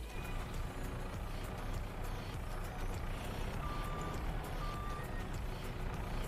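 A truck's reversing alarm beeps in Farming Simulator 22 during logging work, with a few thin, spaced tones heard faintly over a constant low engine rumble.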